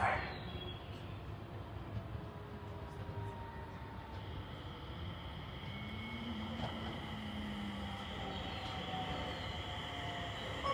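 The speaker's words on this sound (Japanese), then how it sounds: "4番線に下り列車が参ります" A train rumbles steadily into platform 4 of a Japanese station, with a low continuous roar, metallic squeals and hiss, heard from the platform at moderate distance.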